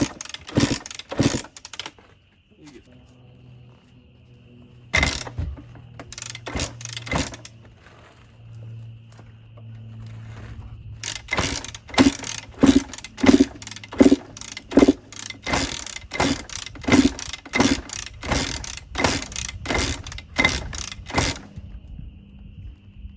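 Blown-up 2019 KTM 125SX two-stroke dirt bike being bump started, with repeated sharp loud bursts and clattering pulses in uneven clusters, separated by brief quieter gaps, as the engine catches and sputters without settling.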